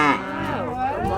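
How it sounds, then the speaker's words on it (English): A Highland cow on a Scottish farm lets out one long, loud moo close by, a steady low drawn-out call with no voices around it. "People are obviously attracted to Highland cows."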